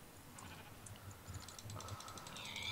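Sheep bleat faintly in Minecraft, short wavering calls that grow a little more prominent toward the end over a low, quiet background.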